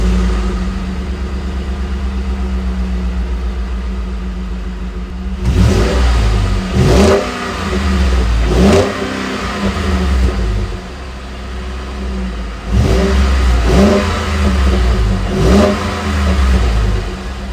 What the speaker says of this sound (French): on va faire ce que vous attendez tous, le démarrage de la voiture